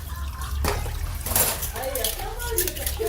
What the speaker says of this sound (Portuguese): o Donizete tá fazendo uma faxina aqui, lavando a louça